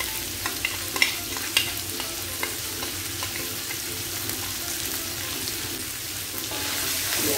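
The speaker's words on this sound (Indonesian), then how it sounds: "Diaduk lagi." Sauce with carrots and other vegetables is stirred while frying in a pan, a steady sizzle with a few scraping knocks of the spoon near the start.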